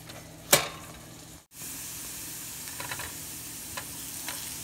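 Bacon sizzling on a broiler pan inside an oven, a steady faint crackling hiss with a brief sharp pop near the start and a short dropout, a few soft ticks later.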